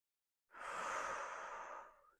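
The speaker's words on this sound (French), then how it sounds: "Je commence en inspirant et en expirant." Slow breath during a seated butterfly yoga pose: one long, smooth airy exhale lasting well over a second, close and soft, with no talking.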